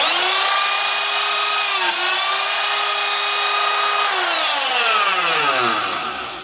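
A lathe set up for drilling and routing runs loud and steady with a strong whining motor tone, pitch dipping briefly near two seconds and then sliding down as the machine winds down near the end.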